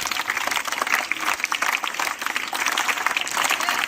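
An audience applauds a welcomed guest at a stage event, dense steady clapping from many hands, loud and close, with no talk over it.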